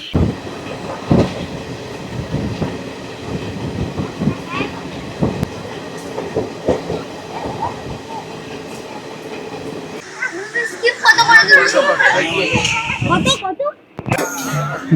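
Passenger train on the Sealdah to Rampurhat line, a steady rumbling run with rail clatter and intermittent clicks, growing louder and harsher toward the end, with voices murmuring in the carriage.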